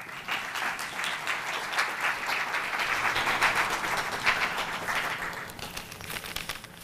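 An audience applauds steadily and warmly to welcome Professor Mona Baker before her distinguished talk, a dense wash of many hands clapping that holds for several seconds and then tapers off.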